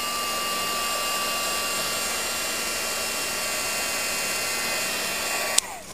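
Steady, close-up blowing roar of a heat gun drying a collaged paper tag, holding an even whir with a faint whine throughout before cutting off with a click near the end.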